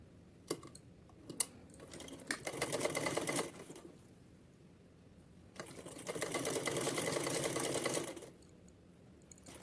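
Sewing machine stitching lace onto a seam of a Kanha ji outfit, running in two sustained bursts with brief clicks and handling sounds before and between them.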